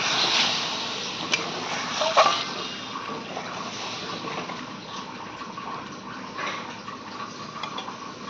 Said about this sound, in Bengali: এবার আমি ঝোলটা দিয়ে দেবো পরিমাণ মতো ঝোল দিতে হবে